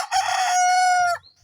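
A single rooster crows nearby, loud and drawn out, its call sustained for about a second before breaking off.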